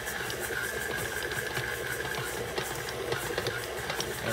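A stand mixer kneading dragon fruit bagel dough with butter, a steady faint mechanical whir with a soft rhythmic thumping, no voices.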